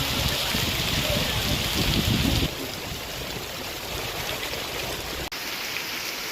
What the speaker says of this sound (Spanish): Justo nos llovió, cosa que es bueno